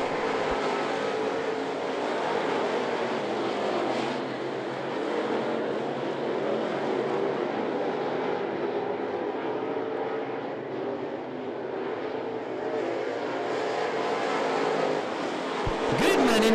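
Crate late model race cars at I-75 Raceway, racing in a heat on the track: a continuous, fairly loud engine roar from several cars, steady throughout with slight swells, and no talk heard.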